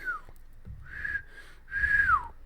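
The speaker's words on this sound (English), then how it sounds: "My whistling coming through there?" Someone whistles a short tune close by, a few sliding notes with gaps between, soft and unaccompanied.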